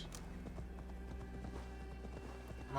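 A horse gallops up in Assassin's Creed Valhalla, its hooves clip-clopping in a steady rapid rhythm at moderate distance throughout, with a brief whinny-like tone early on.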